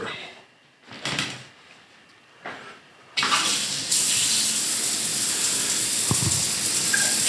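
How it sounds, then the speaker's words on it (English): A residential shower is turned on after a few short knocks and handling sounds, then runs as a steady, loud broadband hiss of water that holds to the end, with a brief clatter near the close. "So let's check the shower while we're talking about the shower."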